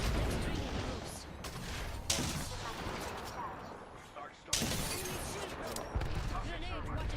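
Gunfire rattles in an Apex Legends match in repeated bursts with sharp impacts and a sudden loud blast, while a player talks over the shooting.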